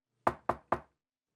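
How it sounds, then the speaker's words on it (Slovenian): Three quick, evenly spaced knocks on a small wooden door set in a tree, sharp and close, with silence before and after. "Bibi in Pika sta splezala na drevo in potrkala pri sraki."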